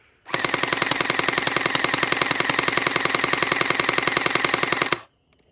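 An Orbeez gel blaster fitted with a drum magazine fires a rapid, even, machine-gun-like burst lasting about five seconds, loud and close, then stops abruptly.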